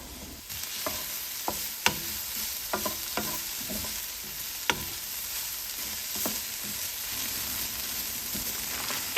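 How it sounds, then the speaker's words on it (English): Vegetables and minced garlic sauté in hot cooking oil for chicken yakisoba, a steady sizzle broken by sharp clacks and scrapes of a utensil stirring against the pan at irregular moments, close and with no talking. "Add all the veggies and 2 teaspoons of minced garlic. Sauté veggies about 5 to 7 minutes."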